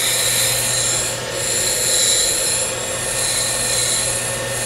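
A bench brake lathe cuts through rust into fresh metal on a brake rotor, giving a steady loud grinding scrape with a constant hum and slight swells in level.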